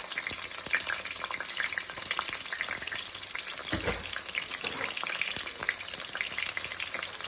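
Onions fry in oil in a pan, crackling and sizzling steadily with frequent small pops, and a brief louder stir or clatter midway; fairly close, no talking.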